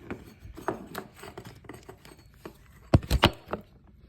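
Plastic clicks, scrapes and rubbing come from opening the air filter housing on a Troy-Bilt lawn mower, with scattered light handling noises ending in a few sharper close snaps.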